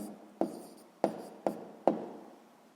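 A pen or pencil taps and scratches on paper four or five times in quick strokes while a math answer is written down, close and quiet with no talk.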